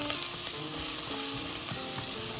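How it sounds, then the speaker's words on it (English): Celery and onions fry in a hot pan with a steady, close sizzling hiss. Faint stirring clicks and scrapes run through it, with no talking. "so got the celery and the onions going a little bit."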